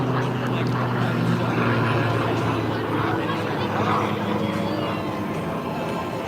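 A seaplane drones steadily overhead with a continuous propeller hum, heard at moderate distance throughout and partly mixed with people talking.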